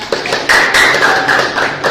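Students in a classroom clap for a classmate, a short burst of fairly loud, close applause sustained across the moment with a few sharper taps standing out.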